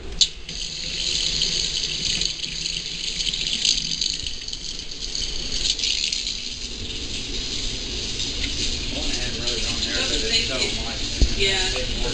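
Water runs from a household tap during a home inspection pressure test, a steady gushing flow into a sink with rattling and voices talking over it.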